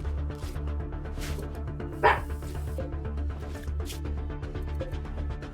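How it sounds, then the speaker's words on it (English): A dog in the video game RimWorld barks once or twice, a short yapping burst over steady game music and background hum at moderate loudness. "barking at a wall"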